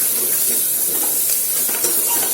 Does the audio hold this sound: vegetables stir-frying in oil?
yes